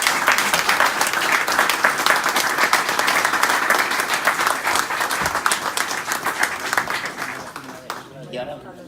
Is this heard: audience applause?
yes